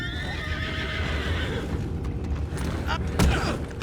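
Horses in Red Dead Redemption 2 whinny and neigh loudly near the start, their hooves clip-clopping beneath, while someone speaks briefly and a sharp thud lands near the end.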